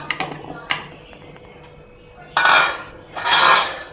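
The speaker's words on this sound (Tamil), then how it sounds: "இதை வந்து நான் மிக்சி ஜாரில் சேர்த்துறேன்" Chunks of peeled, roughly cut beetroot drop into a mixer grinder jar with a few sharp clinks followed by two broader rattling clatters, close and fairly loud.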